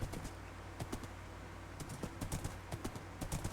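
Horse hooves clip-clopping in Minecraft 1.19.3, with a horse ridden or led around a pond. Irregular clusters of hoofbeats fall in quick bursts, fairly close and moderately loud, and no one talks.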